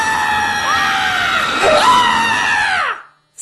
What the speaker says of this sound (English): And now for comedically over-the-top scream in 3,